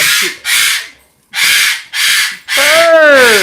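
A pet bird lets out a series of loud, harsh crow-like squawks, five raspy calls in quick succession close to the microphone, the last one stretching into a wavering cry.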